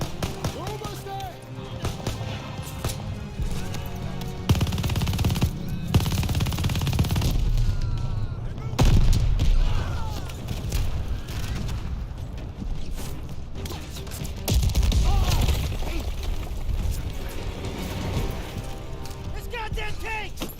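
Machine-gun fire in the World War II shooter Call of Duty Vanguard, bursts of automatic shots and impacts rattling through a busy battle mix under shouted talk and game audio.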